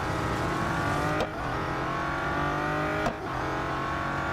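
Race car engine in the mobile racing game Real Racing 3, a loud, steady high-revving drone with two brief gear-shift dips, continuous throughout with no talking.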